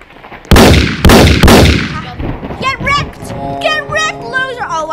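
Gunfire in the Area 51 video game: a few loud, evenly spaced shots with long decaying tails, followed by quieter chirpy electronic game sounds and a low hum.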